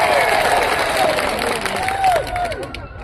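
Crowd clapping and cheering at a political gathering in Chhota Udepur welcoming Chaitarbhai Vasava, a dense, steady wash of applause with a voice calling out over it.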